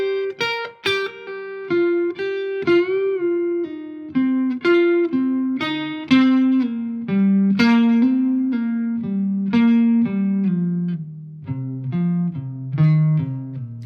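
A clean electric guitar plays a slow blues lick one note at a time, with bends and sustained notes ringing out. The notes step gradually downward, loud and near.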